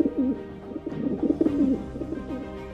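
Soft, low pigeon cooing close by, a few repeated throaty coos in a gentle rhythm with no talking.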